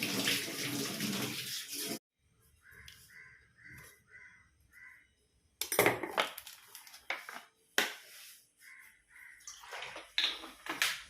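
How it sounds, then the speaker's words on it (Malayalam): Vinegar poured into a pot of water for boiling eggs for an egg stew, heard as short bursts of splashing liquid separated by quiet gaps, while crows caw repeatedly in the background. "അപ്പൊ ഇന്ന് കുറച്ച് വിനാഗിരി ഒഴിക്കുന്നുണ്ട്"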